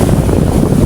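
Heavy wind roars across the microphone on a boat in rough monsoon seas, with dense low rumbling water noise in one loud, unbroken burst.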